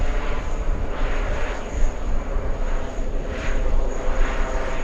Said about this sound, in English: Next arrival coming in on 22 left, we have the Polish Warsaw, the flight from Warsaw.